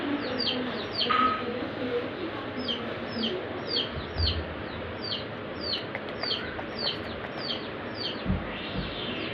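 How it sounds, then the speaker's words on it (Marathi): A young chicken chick calls again and again in thin, high, evenly spaced peeps inside a rural Maharashtrian home, with a low rumble and a few faint background noises beneath. "कोंबडीचा पिल्ला. कोंबडीचा पिल्लू."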